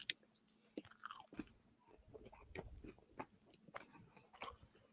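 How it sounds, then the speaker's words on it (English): Crunchy bites and chewing on a french fry, close and intimate, a steady run of crisp crunches and wet mouth sounds with no talking. "I will let the sounds of my chewing count down the clock for me."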